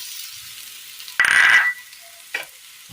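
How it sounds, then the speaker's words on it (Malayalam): Grated coconut lands in a pan of roasted spice powder for a Kerala curry, setting off a sudden sharp sizzle that flares for about half a second over a low background hiss, then a brief second spurt. "ഈ സമയം ഇതിലേക്ക് തേങ്ങ ഇട്ട് കൊടുക്കാം."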